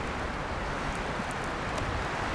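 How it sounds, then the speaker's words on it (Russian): Strong wind gusting as a dense, continuous roar on a hike along the Mogollon Rim near Payson, with faint rustling layered in and no talking. "Ветер очень сильный."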